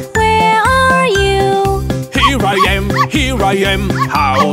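Cartoon dog barks and yips in a children's farm song, set over a steady bouncy music track with a bassline; sung voices join after the first couple of seconds.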